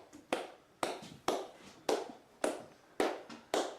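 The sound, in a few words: person clapping hands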